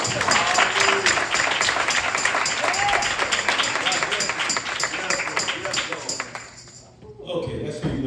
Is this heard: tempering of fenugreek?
no